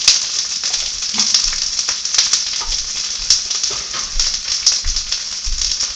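Garlic frying in a pan for fajitas, a loud, continuous crackling sizzle with occasional sharp pops and low clatter of stirring.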